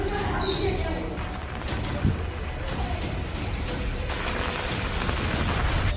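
Heavy monsoon rain pours over flooded streets in Andheri West, Mumbai, making a dense, steady wash of noise that runs throughout. A voice seems to speak underneath the downpour.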